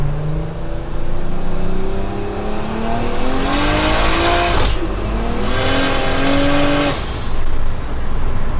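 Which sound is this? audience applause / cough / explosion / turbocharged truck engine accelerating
turbocharged truck engine accelerating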